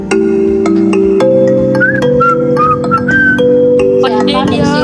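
Someone whistles short, gliding high notes during an online class, with sustained tones and scattered clicks running underneath.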